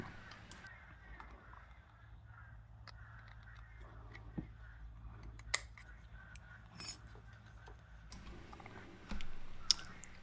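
Metal shears snip a thin sterling silver back plate sheet, giving a few sharp, quiet clicks and cuts scattered over a low, steady room hum with no talking.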